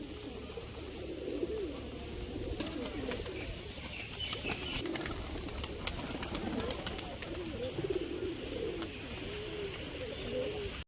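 A white male pigeon coos in low, rolling phrases that repeat steadily, moderately close, over a steady background hum with occasional faint chirps.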